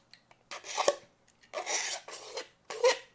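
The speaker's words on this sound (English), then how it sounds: "You came for the best part, me scraping some plastic." Plastic on a 3D printer part is scraped in four short rasping strokes with gaps between them, close and harsh, without any talking.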